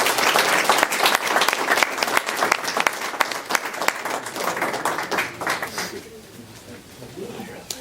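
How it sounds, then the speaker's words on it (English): Applause at a technical school joint meeting, an audience clapping steadily and fairly loudly for several seconds before dying down into murmured voices and talk. "Let's give them a round of"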